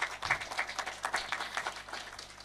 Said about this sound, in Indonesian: Tepuk tangan dong untuk Gaksa